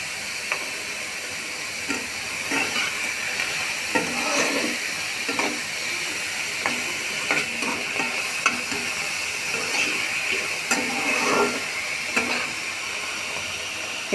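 Spiced food with salt and turmeric fries in a pan, making a continuous hissing sizzle with intermittent scraping stir strokes, close and steady, with no talk.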